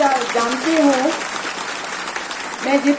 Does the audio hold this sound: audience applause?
yes